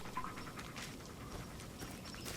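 A dog panting in the Blair Witch horror game, quick soft breathy pants repeating in a loose rhythm, close but faint, with light footstep-like taps underneath.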